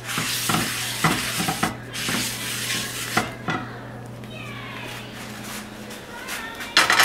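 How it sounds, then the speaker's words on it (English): A frying pan is wiped out during pork steak donburi prep: several irregular rubbing and scrubbing strokes sound close against the metal, with pauses and a low hum in the background. "I'm going to wipe the pan"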